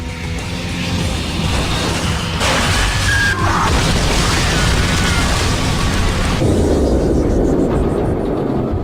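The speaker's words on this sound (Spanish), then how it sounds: "Joe Staley perdió el conocimiento cuando el fuselaje del 737 se rompió en 4 secciones" A Boeing 737 crashes and its fuselage breaks apart, a loud, sustained roaring crash with heavy rumbling and grinding debris, continuous and close, easing slightly toward the end.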